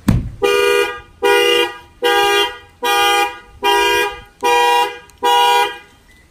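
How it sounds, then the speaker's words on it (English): A Toyota Camry's car alarm, triggered by its glass-break sensor, blares in seven loud, evenly spaced blasts, each a sustained electronic tone with short gaps between. "that will fire off the alarm"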